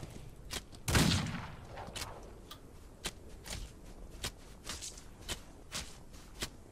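Gunshots in the Outlaws of the Old West video game: one loud blast near the start followed by a steady run of sharp, evenly spaced shots and clacks, fairly close and without talk.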